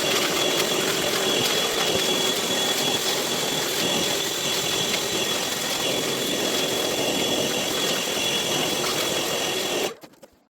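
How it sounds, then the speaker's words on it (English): A small mini shop vac runs close and loud, a steady high whine and rushing airflow while vacuuming up debris, then winds down abruptly near the end. "I'm gonna grab the little mini shop vac and suck all this stuff up"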